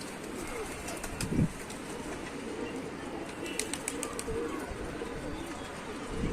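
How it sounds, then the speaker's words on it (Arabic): Soft pigeon cooing outdoors from pigeons standing on a loft roof in Tanta, Egypt, low murmuring calls repeating under steady background noise, with a brief flutter of wings. "لقيت الحمام واقف على الظهر اهو"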